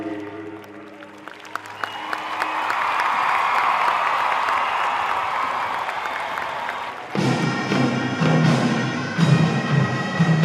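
Outdoor crowd of spectators applauding and cheering a Korean traditional military band performance, a broad wash of clapping swelling then easing before the band's drums and instruments cut back in loudly.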